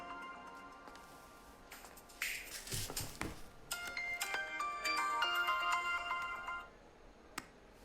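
A mobile phone ringtone plays a tonal, chiming melody at moderate volume with a few clicks and taps around it, and no one speaks over it.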